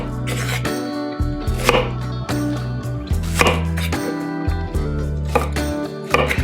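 A kitchen knife makes radial cuts down into an onion on a cutting board, giving a handful of sharp, close taps under steady background music.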